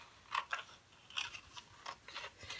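Scissors cut a paper print for a digital image transfer onto copper: a handful of short, crisp snips in an uneven rhythm, close and fairly quiet, with no talking.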